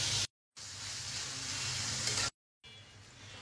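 Chopped onion, chili and garlic frying in a pan, a steady bright sizzle broken by two brief silent cuts, close and even, with no talking.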